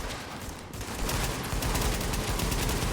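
Rapid automatic gunfire from a firefight in The Division, a dense unbroken stream of shots that starts after a brief lull and holds loud and steady to the end, with no talk.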